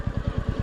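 A scooter engine idles or runs close by on a sandy spot, giving a steady low putter with regular rhythmic pulses throughout the short stretch.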